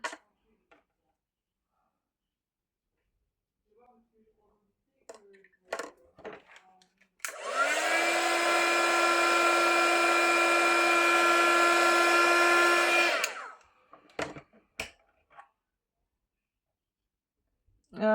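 Heat gun blowing on wax-containing watercolor crayons, a steady loud whirring roar with a high whine that starts abruptly, runs about six seconds alone, then cuts off, with scattered clicks and faint handling noises around it.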